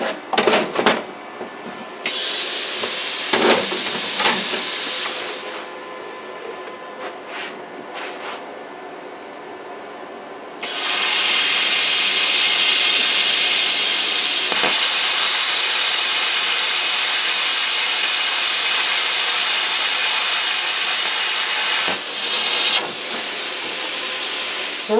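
A Simder Cut 50 plasma cutter, run on 110 volts, slices through 12 gauge aluminum with a loud, harsh hiss that stops and restarts a few times before holding as one long, unbroken blast.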